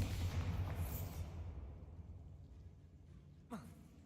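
Bombarda blasting spell explosion in Hogwarts Legacy, a deep rumbling boom that decays over a couple of seconds, followed by a short sharp burst near the end.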